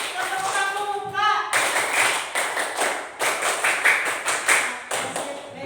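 Students clap together in a classroom, a dense burst of hand claps starting after a brief stretch of voices and continuing steadily in loose waves, moderately close.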